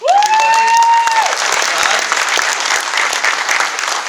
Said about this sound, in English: another round of applause for Khalid, everybody